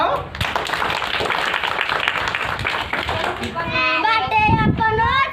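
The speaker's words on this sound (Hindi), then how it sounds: "ताली बजाओ" A group of children claps together at a Republic Day school event. The steady rapid clapping lasts several seconds, and then children's voices rise over it.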